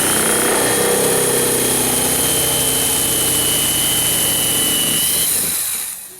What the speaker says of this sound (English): I'm turning it upside down, and I'm going to drill 3 holes.